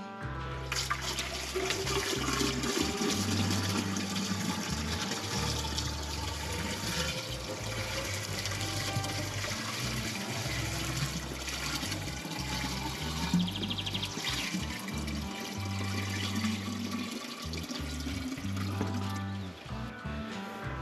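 Water pours steadily into an 8-litre container filled almost to the top, a continuous rushing, gurgling stream lasting the whole stretch at moderate loudness, with no talking.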